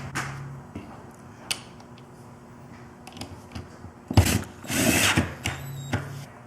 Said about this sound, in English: use the little machine screws to finish the installation